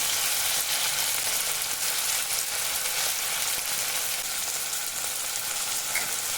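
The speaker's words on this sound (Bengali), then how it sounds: "ভালো করে ভাজা ভাজা করে নিলাম" Onion and chopped tomato sizzle steadily in a pan, a close, even frying hiss with faint stirring scrapes throughout and no voices.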